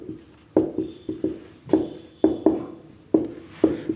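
Chalk tapping and scraping across a classroom board in distinct strokes, about eight sharp near taps in irregular rhythm, with no talking.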